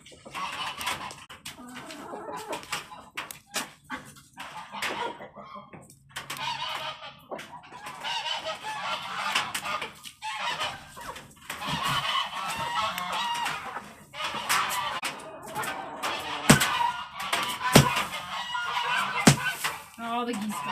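Geese honking around a farmyard poultry pen, with chickens clucking among them, the calls coming as a busy, continuous racket of bursts that rise and fall throughout.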